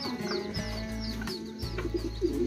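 Pigeons coo close by, soft repeated low throaty calls in a steady rhythm over a constant background hum, with occasional faint chirps.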